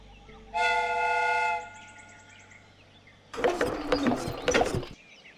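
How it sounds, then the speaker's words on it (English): In the Sherlock Holmes: Crimes and Punishments game, a steam whistle blows loudly for about a second, followed after a pause by rattling, clanking train mechanisms that clatter for over a second. "The steam whistle is ready to be used."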